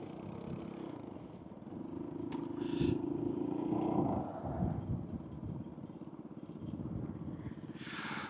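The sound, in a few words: scooter tires riding over gravel laid on tarmac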